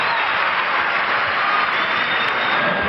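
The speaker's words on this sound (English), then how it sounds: "Listen to the crowd. They're in it already." Loud, sustained roar of an arena crowd cheering at a Lakers home basketball game against the Magic, a dense unbroken wall of noise with no breaks or individual voices standing out.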